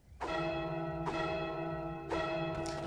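Three struck bells ring out in Goat Simulator 3, each hit a bright metallic clang with long shimmering decay, spaced about a second apart with a fourth strike starting at the end, no voices.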